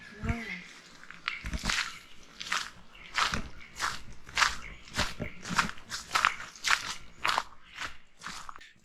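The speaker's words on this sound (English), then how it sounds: "You just listen, you hear footsteps." Footsteps crunch along a rainforest path in Gippsland, Victoria, in a steady, evenly spaced walking rhythm, loud and close.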